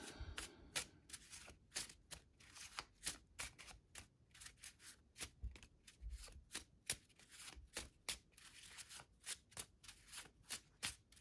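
Tarot cards are shuffled by hand in a quick, steady rhythm of crisp riffling snaps, close and clear with no talking.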